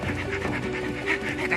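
A dog panting in a radio drama, quick rhythmic breathy pants repeating steadily, close and moderately loud, alone without talk.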